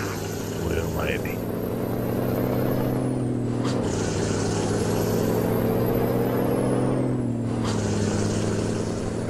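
A heavy truck hauls a 50-ton scraper pan, its loud, steady diesel drone holding close throughout, broken by two brief dips as it shifts gears.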